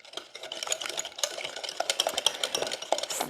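Eggs being stirred into buttermilk pie batter in a bowl, quick rhythmic wet stirring and scraping strokes, close and fairly quiet, with no talking.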